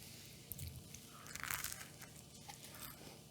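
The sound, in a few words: biting toast with cinnamon apple jelly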